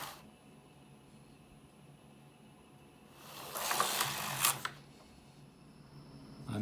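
A knitting machine carriage sweeps across the needle bed for two rows of a baby sweater, a brief mechanical whir and clatter that rises over a quiet room, peaks with a couple of sharp clicks, then fades.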